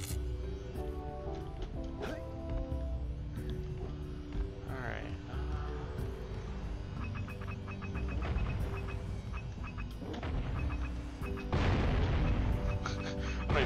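Cannons firing in Jak 1, repeated booming shots at irregular intervals, mixed with game music and effects and a louder burst near the end.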